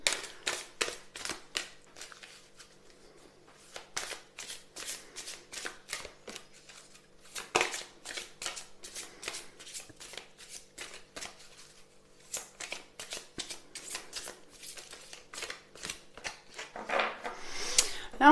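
Tarot and oracle cards being shuffled by hand, a long run of crisp, rapid riffling bursts in close succession with brief pauses, fairly quiet and close, with no speech over them.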